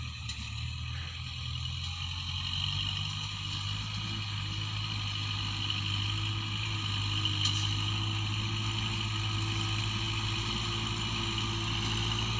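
A Kubota L5018 tractor engine runs at a steady idle-like hum, continuous and moderately near, with no talk over it.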